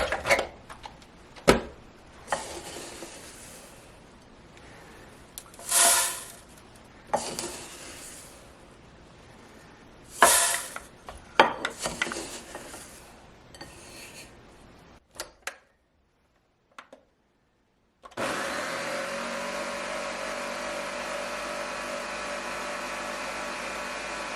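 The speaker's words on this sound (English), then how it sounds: "it makes that kind of mustard texture over if you leave it in the blender for a while" An electric blender grinds mustard seeds for homemade fermented yellow mustard. Short loud pulses and bursts come first, then a brief silence, then a steady, sustained whir to the end.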